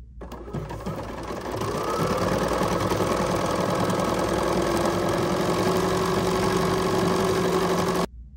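A Bernina sewing machine runs decorative stitching in one continuous, even mechanical whir that starts abruptly, holds steady for several seconds and cuts off at the end.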